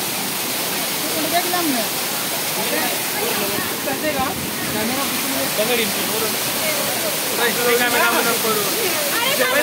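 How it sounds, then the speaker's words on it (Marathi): A forceful waterfall pours down a hillside on a temple pilgrimage route, a steady, broad roar of rushing water that fills the scene from nearby, with voices faintly audible beneath it. "जोरात पाणी पडते या धबधब्यातून"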